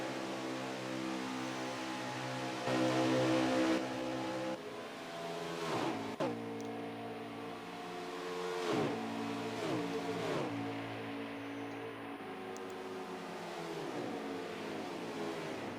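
Race cars on an oval track in a Friday night short-track race, engines droning loudly throughout with repeated rising and falling revs as cars pass and accelerate out of corners, several pitch sweeps overlapping.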